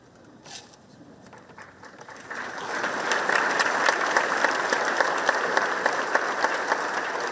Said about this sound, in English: Give another round of applause for Coach Pearl.